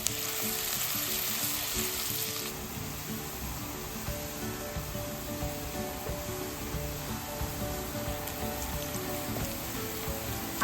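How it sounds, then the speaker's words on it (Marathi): Onion sizzles steadily in hot oil in a pan after a little salt goes in, a dense, continuous frying hiss that holds at an even level throughout with no talking. "आणि कांदा पटकन भाजण्यासाठी आपण थोडंसं मीठ टाकूयात आणि छानपैकी कांदा परतून घेऊयात"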